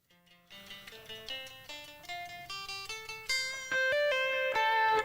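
An electric guitar plays an ascending pentatonic line in a song recording. The notes are clear and climb step by step over a quiet backing, and the part gets louder and brighter toward the end.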